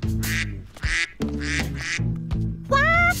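Cartoonish ducks in the Bernd das Brot video game quack in a rapid series of loud, close bursts, with a higher squeaky call near the end; no talk over them.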